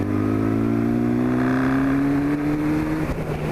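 A modified motorcycle engine revs loudly and steadily up through its range, its pitch climbing smoothly over several seconds and then settling, heard close and alone without speech.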